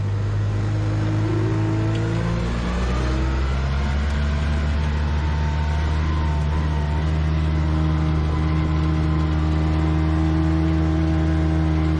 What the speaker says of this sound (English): push the gas pedal down a little bit and we'll go